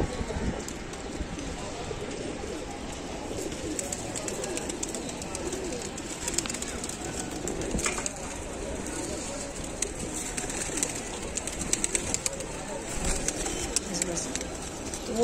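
Pigeons offered for sale at a loft coo in a dense, continuous wash, mixed with wing flutters, scuffling and a person talking through the whole stretch.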